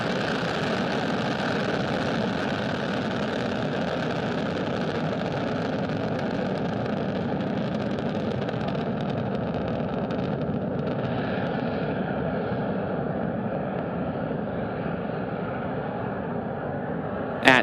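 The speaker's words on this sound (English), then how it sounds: "Engines full power and liftoff." A SpaceX Falcon 9 rocket's engines roar at liftoff from Cape Canaveral Space Force Station, carrying a GPS satellite. The dense, steady, rumbling roar holds constant throughout, with no voices.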